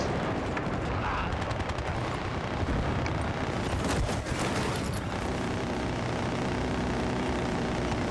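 A helicopter in Battlefield Bad Company 2 multiplayer on PC whirs with rapid rotor chopping, loud and close against dense gunfire and explosions that fill the game mix from start to finish.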